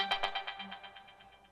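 A synth pad run through the Tantra effect fully wet, chopped into a fast rhythmic pulse of gated stutters that fade away over about a second and a half.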